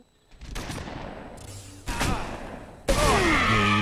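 Shotgun blasts in the zombie video game A Game Of Infection go off as a few heavy, booming shots spaced about a second apart, each followed by a rumbling tail, loud and near, with no one talking over them.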